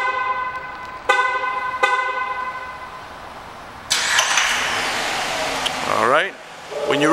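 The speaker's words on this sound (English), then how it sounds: "Hang on here, let me lock it." Locking a gray 2011 Jeep Grand Cherokee Laredo with the key fob brings two short horn chirps about a second apart, followed by louder vehicle noise and a brief voice near the end.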